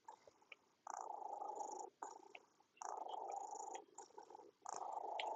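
A cat makes soft, faint chirpy purring sounds in short repeated bursts, close by in a quiet indoor room.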